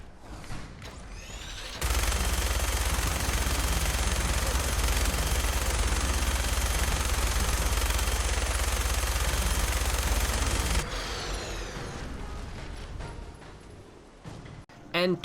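A minigun in a Fallout 4 mod fires in one long, loud, unbroken sustained burst lasting several seconds, with shorter gunfire and mechanical sounds before and after it.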